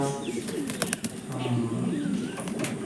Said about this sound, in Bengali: পায়রাগুলো দেখুন ভালো লাগবে